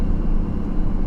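A 1997 Camaro engine accelerates on the road, producing a steady, dense low rumble that stays loud and even throughout a brief stretch with no talking.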